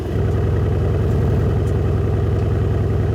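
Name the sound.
car engine running with sport mode and exhaust button on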